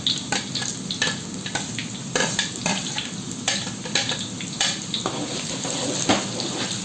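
Steady sizzling of garlic frying in hot oil until light brown, with intermittent stirring scrapes and clinks against the pan, no talking.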